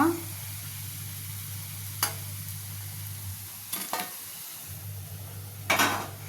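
Bottle gourd vadas frying in hot oil, a steady close sizzle and hiss with occasional clinks and scrapes of a utensil against the pan.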